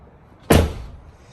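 The rear door of a Tesla Model Y fitted with Hansshow soft-closing latches shuts with a single close, sharp thud that decays quickly into quiet, with no voices.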